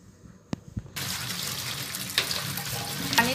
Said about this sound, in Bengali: আমগুলোকে এখন আমি পানি দিয়ে ধুয়ে আধা ঘন্টা ঝরানে রাখব